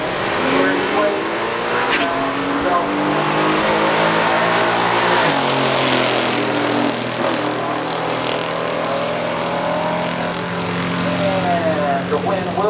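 A 1965 Chevy Malibu 300 Deluxe and a 1969 Chevelle SS396 roar down a drag strip, a sustained loud engine drone with shifting revs and gear changes, heard from the trackside with crowd and ambient noise around it.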